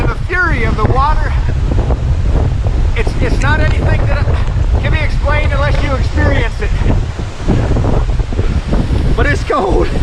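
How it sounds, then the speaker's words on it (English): Roaring waterfall at the base of the falls in Bechler Canyon, Yellowstone, a dense steady rush of water filling the whole scene close by, with a person talking over it throughout. "It is just unbelievable, the sound and the fury of the water."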